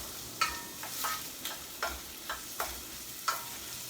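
A pot of aromatics and spices stirred and gently frying on a stove over medium heat for cabbage soup. About seven soft spoon scrapes sound in an irregular rhythm over a faint, steady sizzle, close by, with no talking.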